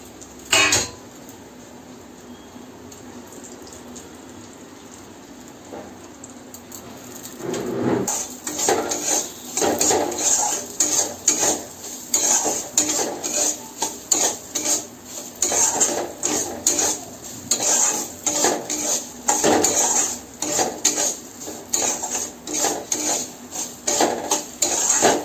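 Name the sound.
frying cashews and raisins with semolina and ghee in a pan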